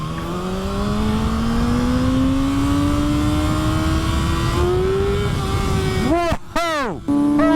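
Sports motorcycle engine droning loudly and steadily climbing in pitch, then revving hard into a power wheelie with quick sharp rises and drops near the end.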